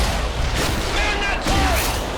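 Heavy turret gunfire pounds in the video game Red Faction: Armageddon, a dense, loud barrage of booming shots that fills the whole stretch without a break.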